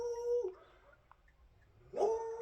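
A dog gives two short, tonal barks or yelps, one at the start and one near the end, with a quiet gap between.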